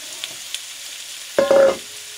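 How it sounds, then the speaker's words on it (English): Sliced peppers and onions land in a hot pan still holding a sauce reduction for sausage and peppers, setting off a sudden loud sizzle that lasts under half a second and fades to a faint hiss, after a few quiet clinks. "We're going to take the peppers and the onions, and in they go."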